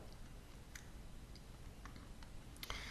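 A few soft clicks from a single F1 key press on a computer keyboard, isolated taps over a steady background hiss with no talking.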